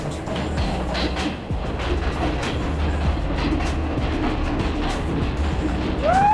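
A train runs on the rails near Nine Arch in Ella, a steady rumble with rhythmic clickety-clack from the wheels, and a faint brief squeal near the end.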